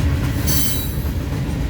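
An eastbound freight train rolls along Main 2 of the Transcon in Fremont, Nebraska, a loud close steady rumble of wheels and cars with a brief high metallic squeal partway through.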